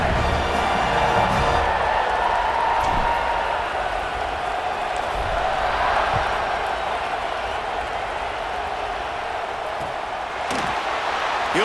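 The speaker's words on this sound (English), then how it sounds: "You think this crowd's going to get loud when their defense comes on the field?" Steady roar of a stadium crowd cheering in College Football 26 on the kickoff after an extra point, filling the full stretch at a loud, even level with a few sharp thuds.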